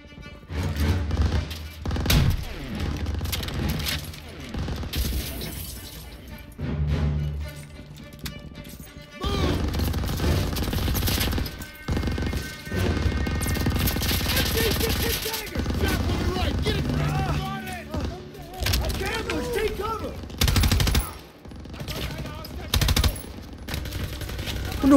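Heavy machine gun fire in Call of Duty WWII, near and loud, coming in repeated sustained bursts with brief lulls, mixed with crashes, battlefield clutter and shouted voices.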